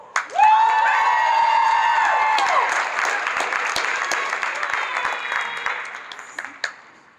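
Convention audience applause at a Chicago fan panel, a sustained burst of clapping and cheering with whoops and shouts that swells quickly, holds for several seconds, then fades.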